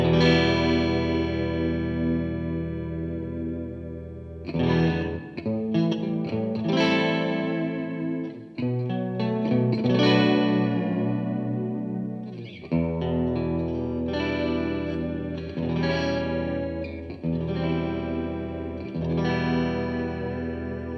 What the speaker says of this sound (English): This is a very chorused one that I've made out of a preset.